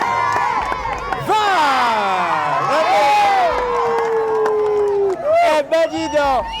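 A lively crowd of spectators at an outdoor fun tour event in Port-Louis cheers and whoops loudly after an acrobat's run of somersaults, shouts rising and falling over about six seconds, mixed with children's yells.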